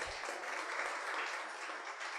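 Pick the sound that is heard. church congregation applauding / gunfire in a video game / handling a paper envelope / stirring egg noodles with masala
church congregation applauding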